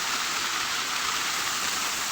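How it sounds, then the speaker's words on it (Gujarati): A waterfall dropping from a height into a pool, a constant, dense roaring rush of falling water, close and unbroken with no voices. "સરસ મજાનો ધોધ પડી રહ્યો છે"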